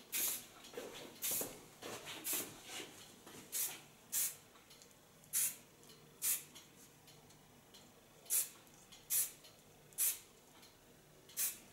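Short bursts of hairspray misted over a short platinum-and-pink pixie cut, about a dozen quick hissing puffs in an irregular rhythm, close and fairly quiet with no talking.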